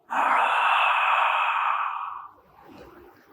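A person takes a long, deep yawn through the mouth during a breathing exercise: one loud, breathy inhale-exhale lasting about two seconds, then fading into quiet breathing.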